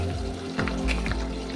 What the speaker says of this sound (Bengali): আর অল্প কটা বাকি, ওটা ভাজা হচ্ছে